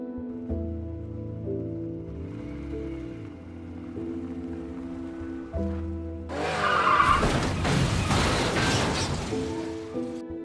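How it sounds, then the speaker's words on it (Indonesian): A car in a film scene hums along, then its engine surges and its tires skid loudly in a harsh, noisy rush that lasts several seconds before an impact. "ada sebuah mobil yang menabraknya dengan sangat keras"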